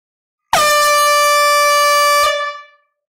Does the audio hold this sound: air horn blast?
yes